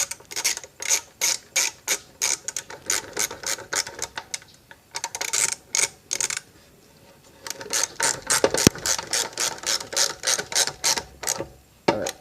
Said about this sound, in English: It's a 7mm head bolt, so it takes a 7mm socket